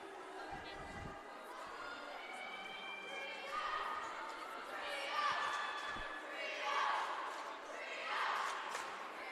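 Crowd cheering and shouting at a college acrobatics and tumbling meet, A&T Caldwell versus Georgian Court, rising in swells throughout as a commentator talks over the noisy arena.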